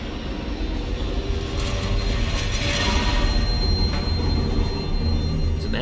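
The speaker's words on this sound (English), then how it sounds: "I need to get the train back here." A train in the video game Daymare: 1994 gives a loud, continuous rumble with rattling and faint metallic squeals throughout, and no voices over it.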